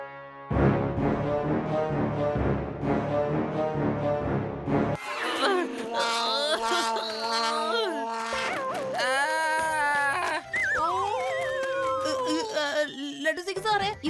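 A man imitates a dog: rhythmic vocal yelps first, then long wavering howls and whimpering cries that rise and fall in pitch, loud and close, with no other sound.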